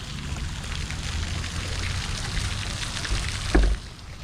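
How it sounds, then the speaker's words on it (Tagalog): Outdoor water fountain in Toronto, with falling water splashing steadily into a pool as a continuous broadband rush, plus a louder splash or thump near the end. "Ito yung fountain rito."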